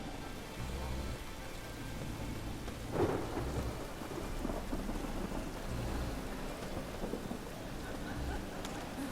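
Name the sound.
rain and thunder in The Witcher 3 video game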